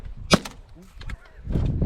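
A single sharp shotgun blast during a pigeon hunt, close and loud, followed by softer rustling and faint knocks in the field.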